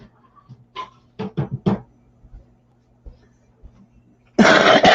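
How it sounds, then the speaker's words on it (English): A person coughs several times in quick, close bursts, then there is a quiet pause with faint throat sounds and a louder rough cough or throat-clearing at the end. "I still got a little bit of cough."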